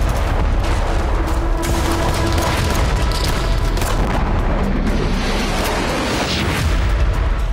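An explosion at the Al Asad US military base in Iraq gives a loud, continuous, dense roar of booming blasts and rumble that fills the whole stretch without a break.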